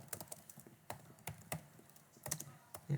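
Keys clack on a computer keyboard in short irregular bursts of close, crisp taps with brief pauses between, no voices over them.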